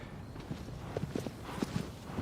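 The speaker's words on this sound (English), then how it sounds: "Look, the horse is moving on its own." Hooves of a horse in Shadow of the Colossus clip-clop at a steady walking pace, soft and mid-distance, over a low ambient game backdrop with no talking.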